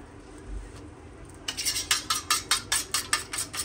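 An egg being beaten with salt in a bowl, a steady run of quick, sharp clinking whisks against the bowl that starts after a short quiet pause and keeps a regular rhythm, close and clear.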